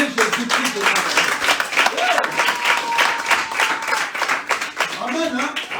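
Church congregation at a French-language service clapping and cheering for Jesus Christ, a sustained dense wave of applause with crowd voices mixed in, loud and steady throughout.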